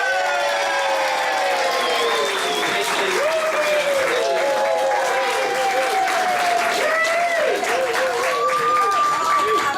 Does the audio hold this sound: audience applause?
yes